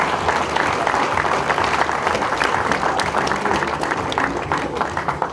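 A crowd at a sports club awards ceremony applauds honoured athletes, a coach and an official, with loud, sustained clapping and a few sharper individual claps standing out near the front.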